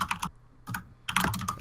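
Typing on a phone produces quick bursts of close, crisp taps in clusters separated by short pauses, faint and without speech.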